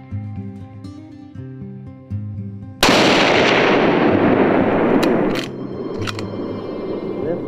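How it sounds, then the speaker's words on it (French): A single loud rifle shot on a deer hunt cracks out suddenly over a soft, steady background, then rolls into a long, echoing decay that fades over several seconds. "notre boc est en fuite et Yannick effectue un second tir."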